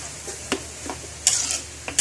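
Garlic frying in a pan for Filipino pancit bihon guisado, with a steady close sizzle broken by a few sharp stirring scrapes and clicks of a utensil against the pan.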